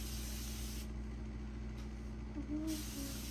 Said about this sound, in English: as I continue to spray and drench them with water.